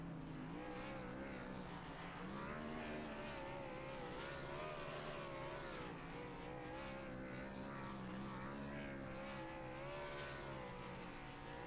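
The No. 18 M&M's Chevrolet NASCAR race car does a burnout at Homestead, its engine holding a loud, sustained roar with wavering pitch that runs unbroken for nearly twelve seconds, faintly captured.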